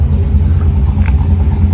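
A fixed-up Trans Am on the Power Tour rumbles loudly and close by, a deep steady engine drone with slight rises in revs.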